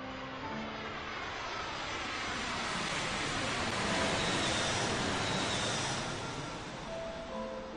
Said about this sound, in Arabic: صوت طائرات النجدة خجول جداً أمام الضرر